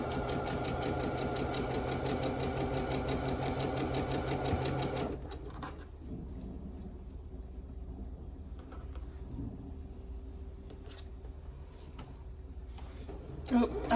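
A sewing machine stitches a quilt block with a fast, steady mechanical chatter for about five seconds, then stops, leaving quieter handling sounds and a faint hum.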